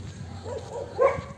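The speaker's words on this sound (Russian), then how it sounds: "Собачки на меня лают." Village dogs in rural Armenia give a single short bark, distant and faint over a quiet outdoor background.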